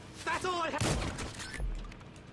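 Gunfire erupts during a store robbery in GTA Online, a short burst of shots cutting through loud nearby talk.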